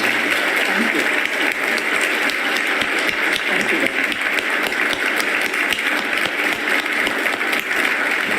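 Warm audience applause thanking a speaker at the close of a conversation event, dense and loud, continuing evenly from start to finish.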